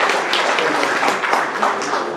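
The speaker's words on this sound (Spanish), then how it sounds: "Démosle un fuerte aplauso al doctor Juan Pablo Balba Martín" Audience at a hospital general session applauding a doctor, a continuous dense wash of clapping hands, loud and close, with no break.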